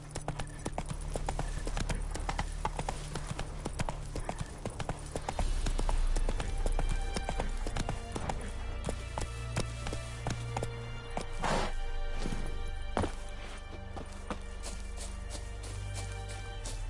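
Hooves of Roach, the horse in the PS5 Witcher 3 Complete Edition, clip-clop steadily at a trot, close and clear throughout over a low background score.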